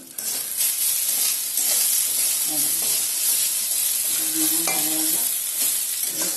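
Onions and green chillies fry in a pan with a steady, close sizzle and hiss, broken by the scrape and clatter of stirring, with no talk over it.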